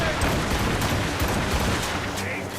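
Rapid gunfire from a Puckle gun aimed at ships in Assassin's Creed Rogue, a dense, sustained volley of loud cracks and booms under battle din, with faint voices mixed in.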